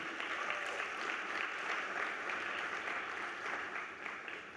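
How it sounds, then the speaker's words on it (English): An audience at a live talks event on ending gender-based violence gives a round of applause, a dense, steady wash of clapping that holds evenly for several seconds before easing slightly. "Can we give them a round of applause to welcome them and connect the two audiences?"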